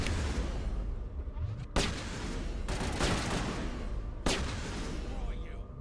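Sniper gunfire in the Mass Effect video game, with three sharp, loud shots spaced unevenly over a dense background of game combat noise and a speaking voice.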